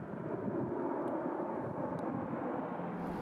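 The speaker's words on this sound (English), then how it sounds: "A plane flies over from Schenectady Airport." A fixed-wing airplane from Schenectady Airport passes overhead, producing a steady, low, distant engine drone that holds evenly throughout with no voices.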